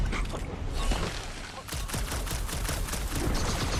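Rapid gunfire bursts from a blaster battle in the Guardians of the Galaxy video game, dense and continuous under a busy mix of game sounds and character voices.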